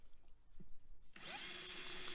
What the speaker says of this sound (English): So the first step, drilling out the rivets.